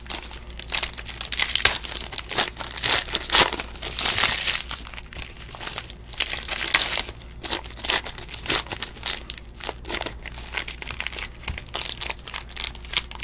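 A 2017 Panini Chronicles baseball card pack wrapper crinkles and crackles as it is torn open, with close, continuous bursts of crisp plastic rustling and no voices.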